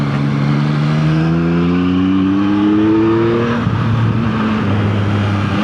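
A 2024 Yamaha MT-09 motorcycle engine revving hard while riding, loud and close, its pitch climbing steadily then dropping and holding through a gear change, with constant wind roar throughout.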